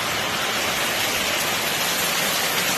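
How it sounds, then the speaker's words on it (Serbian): Rain pours down hard during a storm in the Rasina district of Serbia, a dense, even broadband rush close to the microphone with no gaps or voices. "Evo, ponovo kiša"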